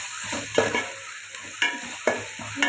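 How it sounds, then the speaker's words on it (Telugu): Chicken sizzles in hot oil with ginger garlic paste for pulao, quietly frying while a utensil scrapes and stirs the pan in a few distinct strokes, no voices present. "ఇది బాగా ఫ్రై చేసుకోవాలండి."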